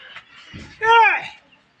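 A chicken gives one short, loud squawking cluck up close after a few faint rustles, then goes quiet.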